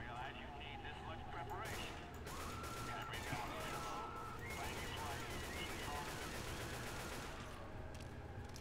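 Rapid AK rifle bursts in Left 4 Dead 2, with dense crackling shots that keep going over the game's noise while someone talks throughout.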